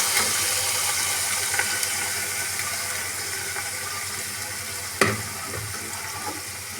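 Two finely chopped onions frying in a pan for an Amritsari nutri kulcha masala, giving a steady close sizzle with faint stirring scrapes and one sharper clink midway.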